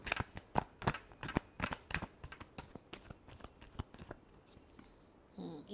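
A deck of tarot cards is shuffled close up in quick, crisp snapping bursts for about four seconds, then the handling settles into quieter rustles.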